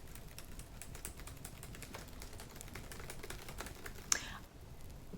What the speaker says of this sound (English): I'm typing up my resignation letter.